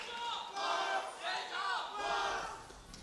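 An esports arena crowd at a League of Legends EU LCS match in Berlin cheers and chants in loud, rhythmic surges, several swells of massed voices rising and falling across the hall.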